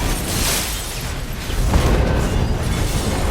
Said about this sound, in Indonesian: menyebabkan kebakaran besar yang meledakkan mobil